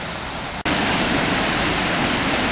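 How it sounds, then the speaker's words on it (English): A waterfall on the River Esk in Glen Esk beside a fish ladder gives a loud, steady broadband roar, heard up close and unbroken apart from one brief cut near the start. "There's a bit of a waterfall on the Esk and a fish ladder."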